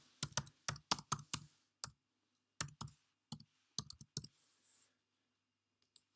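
Keys clack on a computer keyboard as an entry is typed, a quick burst of close, crisp clicks followed by a few sparser taps and a pause, alone in a quiet room.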